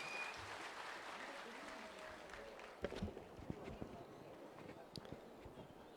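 Faint, distant applause from an outdoor crowd at the Manali Winter Carnival opening ceremony, a thin steady patter with a few louder claps and bumps, and some background voices.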